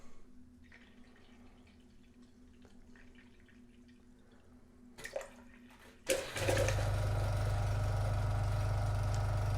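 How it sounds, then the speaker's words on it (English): Purple cleaning solution flows out of a beer cooler tap during line cleaning, a steady loud rushing hiss with low hum starting abruptly after quieter drips and faint machine noise. "we will see purple liquid coming out of the tap"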